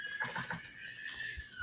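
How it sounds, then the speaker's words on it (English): A toddler screams in the background: one sustained, piercing, high-pitched wail lasting about a second and a half, fairly distant, with no talking over it. "If you hear a baby screaming in the background"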